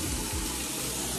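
Tap water runs steadily into a container being filled for cleaning, a continuous close splashing rush lasting about a second with no voices.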